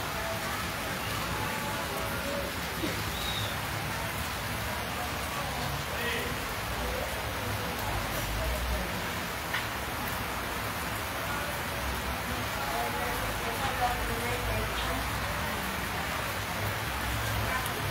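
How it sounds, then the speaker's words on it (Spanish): Steady, dense rain hiss fills the whole stretch, broad and constant with no pauses, heavy downpour close by. "sigue lloviendo con todo"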